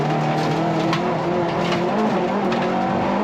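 Honda Civic rallycross race cars at Lydden Hill roar loudly and continuously close by, engines revving with shifting pitch through a bend, with a hint of tyre noise.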